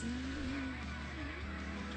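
A video game car accelerates and slides, its engine whining with a rising and falling pitch and the tires skidding, steady and fairly faint throughout.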